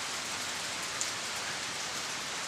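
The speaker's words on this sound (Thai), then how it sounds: "ฝนยุยๆลงมา" Light morning rain falls in rural Thailand as a soft, even hiss that stays constant throughout, with no other sounds standing out.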